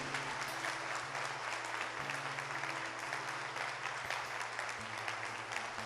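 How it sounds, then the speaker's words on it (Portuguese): An audience at a Catholic Eucharist talk applauds steadily, a dense and even wash of many hands clapping throughout, fairly distant, with a low hum underneath. "Pode aplaudir com força que isso é lindo."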